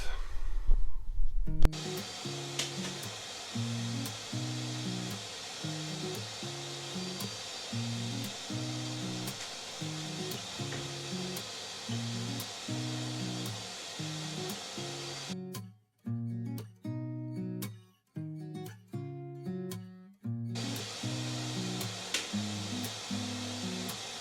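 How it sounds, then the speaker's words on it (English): A power drill with a large hole bit bores through a tiny house wall from outside in, whirring in long, loud bursts, grinding steadily with a rhythmic pulsing, pausing in several short stops and restarts before running on again. "we're going to drill with the big hole drill from the outside inwards"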